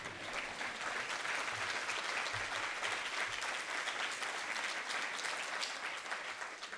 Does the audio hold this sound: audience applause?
yes